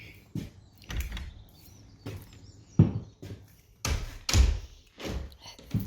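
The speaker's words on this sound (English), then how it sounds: "Heavy doors." A heavy frosted-glass workshop door, somewhat stiff, is pulled open and pushed shut in a series of close, loud thuds and sliding knocks with quieter rattles between them.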